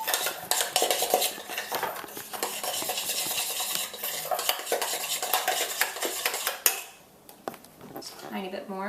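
A metal spoon clinks and scrapes against a bowl while cocoa powder is stirred into vegan, gluten-free breakfast rice pudding, with fast, continuous clattering that stops abruptly near the end.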